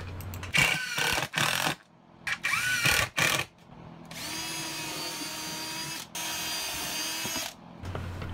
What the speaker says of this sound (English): pre-drilling and driving some screws to hold them down